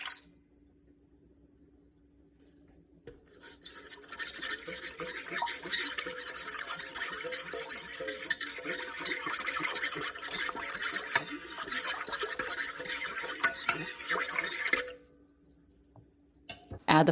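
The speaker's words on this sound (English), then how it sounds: "Add your active starter and the warm water and mix them together using a whisk." Sourdough starter and warm water whisked together in a bowl: about eleven seconds of steady, busy wet clicking and sloshing from the whisk, fairly close, starting and stopping abruptly.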